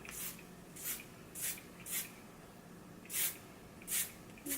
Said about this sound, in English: So I am just going to spray a little bit.